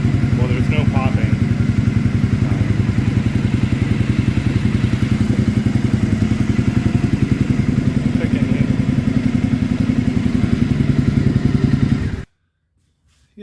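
Warmed-up 2015 Triumph Speedmaster engine idling through its exhaust with the air system removed, a steady loud low throb with no popping, running evenly for about twelve seconds before cutting off abruptly into silence.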